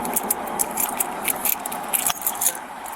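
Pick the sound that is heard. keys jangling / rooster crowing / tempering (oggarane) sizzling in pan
keys jangling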